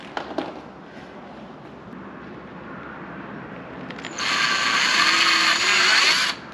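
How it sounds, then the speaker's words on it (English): A drill boring through a Cadillac CTS car body panel to mount a carbon front splitter. After a quiet stretch, a loud, steady high-pitched whine runs for about two seconds, then cuts off. "Okay, we'll drill through."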